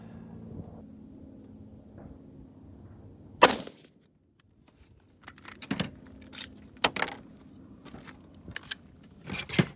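Single defensive rifle shots fired while zeroing an optic at an outdoor range, a sharp crack near 3.5 s followed by several more sharp reports, with quiet handling and low background hum between them.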